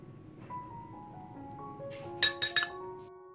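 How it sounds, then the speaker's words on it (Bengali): A spoon mixes salt and white pepper in a bowl, with soft stirring followed by three sharp, close glassy clinks near the end. "এখন নেড়ে চেড়ে মিশিয়ে নিচ্ছি।"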